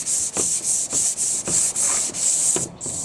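Wood is hand-rubbed down before dyeing with steady back-and-forth scrubbing strokes, about eight even passes, loud and close with a hiss on each stroke.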